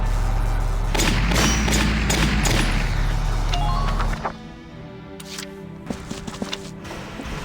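Gunfire in the video game Valkyria Chronicles sounds as a dense volley of heavy shots and thuds over a low rumble. Sparser cracks and clicks follow.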